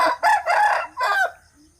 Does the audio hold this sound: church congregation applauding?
no